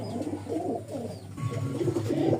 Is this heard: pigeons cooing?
yes